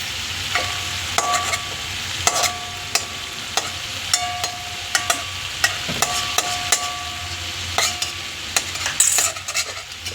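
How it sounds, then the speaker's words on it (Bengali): A metal spatula stirs and scrapes fish in a frying pan, the pieces being worked apart to loosen the bones, with repeated clinks and scrapes over a steady sizzle of frying oil, close and moderately loud, no talk. "মাছগুলো এই খুন্তি দিয়ে এরম করলে এই যে এরকম করে ঘাঁটলে"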